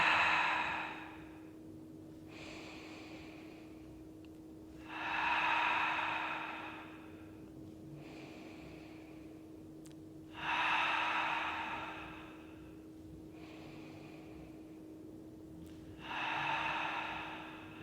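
Slow, deliberate breaths during a hip reset exercise on a mat, with long airy inhales and exhales alternating in a steady rhythm about every five seconds, close and fairly quiet over a faint steady hum.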